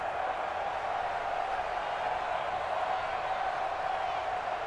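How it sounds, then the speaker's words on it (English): A stadium crowd in Madden NFL 20 during a 49ers vs Cowboys game gives a steady, even roar of cheering that holds at a constant level throughout. "the crowd getting into it as we come up on a big 3rd down"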